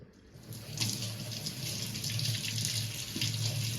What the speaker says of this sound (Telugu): కడుగు మళ్ళీ కడుగు ఒకసారి ట్యాప్ కింద